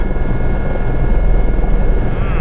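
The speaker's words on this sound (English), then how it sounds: "we're gonna take a lot of gear and use the helicopter today" A helicopter in the Arctic mountains, near and loud, its rotor and engine roar filling the scene as a dense, steady wash of noise.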